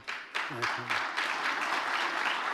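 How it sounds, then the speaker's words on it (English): Audience applause at a political speech, a steady wash of many hands clapping that swells after a brief voice and holds for a couple of seconds, moderately loud and diffuse. "Like, who's clapping for that, bro? Why would you clap?"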